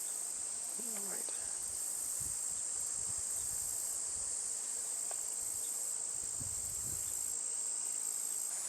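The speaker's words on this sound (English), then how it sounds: "Not a single sound other than a few vehicles, the trees, the bugs." Insects, likely crickets, chirp steadily outdoors beside a road, a continuous high, thin buzz with faint low rumbles of distant passing traffic underneath.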